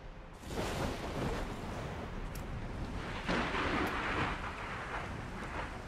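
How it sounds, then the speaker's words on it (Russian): Rain and thunder in the video game Annunaki Genesis Reborn: a steady hiss of rainfall with deep rumbling thunder rolls swelling in after a quiet start and again midway, fairly faint overall with no speech. "А теперь еще и дождь пошел."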